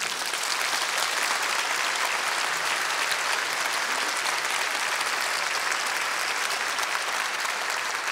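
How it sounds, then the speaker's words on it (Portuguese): A church congregation breaks into steady, full applause, a dense wash of many hands clapping evenly throughout with no voices over it. "Pode aplaudir."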